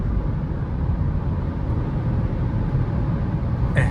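A 2022/2023 VW Nivus Highline 200 TSI accelerating at high speed, its steady engine drone and road rumble filling the cabin at an even, loud level with no talk.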